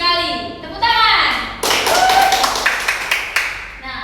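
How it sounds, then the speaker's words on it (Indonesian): Fifth-grade pupils in a primary school classroom clap their hands in short bursts after a teacher speaks, with sharp close claps and children's voices mixed in. "Betul sekali. Tepuk tangan."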